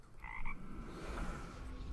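A frog croak sound effect in the Eternal card game, a short pair of buzzy croaks at the start over a faint, hissy background.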